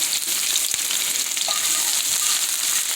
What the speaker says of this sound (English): I'm adding my onions to hot grease